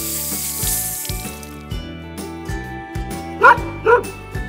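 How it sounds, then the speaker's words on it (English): Two short, sharp dog barks ring out near the end over light background music with a sizzling wash at the start. "Barked the dog."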